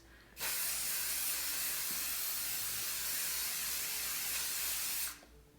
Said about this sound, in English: So do a test spray.